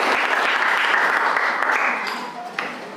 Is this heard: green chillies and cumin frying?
no